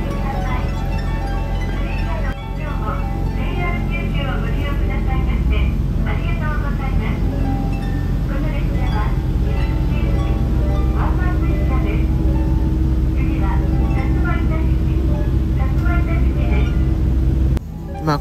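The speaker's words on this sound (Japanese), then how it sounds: "そして枕崎を発車する列車に乗車します。" An Ibusuki Makurazaki Line train departing Makurazaki station rumbles steadily with a low, continuous drone and a rising tonal whine, while a voice talks over it throughout.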